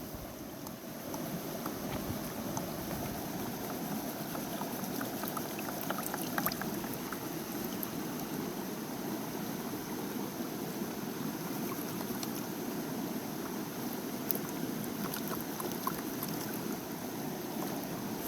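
Steady water sloshing as sand and stones are washed in a gold pan at Slab Hut Creek, a continuous close swirling wash with faint wind noise and no talking.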